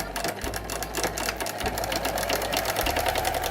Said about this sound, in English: Changing the machine back to straight stitch and make the hem from the pocket.